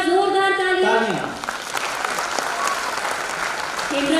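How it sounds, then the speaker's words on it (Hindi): Loud audience applause for Indian women fills the air as a dense wash, with music or voices over it at the start and end. "तो हमारी भारतीय नारियों के लिए एक बार जोरदार तालियां।"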